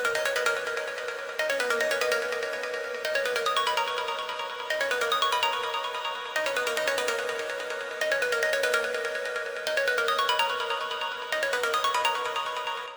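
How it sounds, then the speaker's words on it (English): An ambient synth pluck from the Pluck Magic Phase stock preset, layered an octave up or down, plays a descending pattern. The same bright phrase repeats in even cycles, loud and alone. "This is just kind of like a descending pluck pattern."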